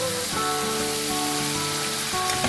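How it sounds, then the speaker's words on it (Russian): Food fries in a hot cast-iron skillet with a steady, loud, close sizzle that hisses on without a break and without any talk. "5 минут обжарю, выключу, пусть настаивается в сковородке."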